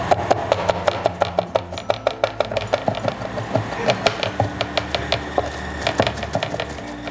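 Garlic cloves being minced with a knife on a wooden board: a close, fast, steady run of sharp chopping taps over a faint low hum, with no speech.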